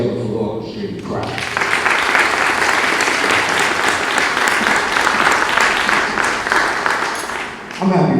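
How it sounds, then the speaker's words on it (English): A crowd at a Fisk Orchestra reunion gathering claps in a sustained, loud wave of applause that swells quickly after a brief spoken introduction, holds steady, then tapers off near the end. "Let's put your hands together for the orchestrated crowd."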